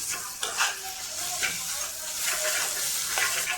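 An egg sprinkled with chilli powder fries in a pan with a close, steady sizzle, overlaid by occasional soft scrapes and taps of a spatula.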